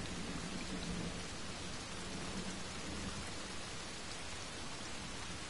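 Steady, dense rain pours in a Desperados 3 game scene, a uniform hiss across the whole stretch with a low rumble of distant thunder underneath and no voices.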